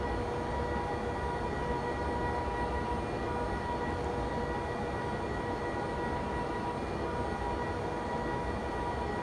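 A train running in Train Simulator Classic produces a steady, continuous low rumble with a faint tonal hum, constant in level throughout and with no voices.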